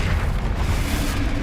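Confringo spell explosion in Hogwarts Legacy, a loud, sustained rumbling blast with dense low-end roar filling the whole moment, no talk over it.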